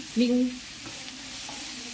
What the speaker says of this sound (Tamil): இதில் கேரட் ஆட் பண்ணி நல்லா வதக்கிக்கலாம்.